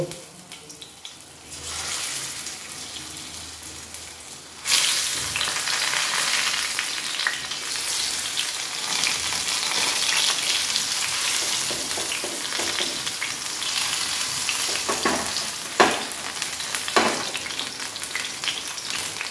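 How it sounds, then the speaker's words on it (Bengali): Pointed gourd (potol) pieces sizzle in hot oil as pakoda, a quiet start giving way after a few seconds to a loud, steady crackling fry with occasional sharper pops, heard close and alone. "এবার আমি একে একে পটলগুলোকে এইভাবে উল্টিয়ে উল্টিয়ে সাজিয়ে দেব।"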